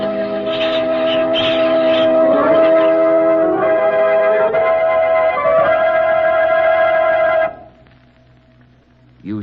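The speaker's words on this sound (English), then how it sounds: "You should have heard the Hamlin people ringing the bells till they rocked the steeple." Church bells ring loudly from a steeple as a radio drama sound effect, a dense echoing peal of overlapping tones that carries on steadily, then cuts off abruptly and leaves a faint tail.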